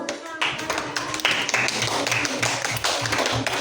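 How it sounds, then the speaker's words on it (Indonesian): Children in a classroom give a short round of clapping for their teacher's lesson, uneven and close, with voices mixed in underneath. "Boleh kasih tepuk tangan dulu"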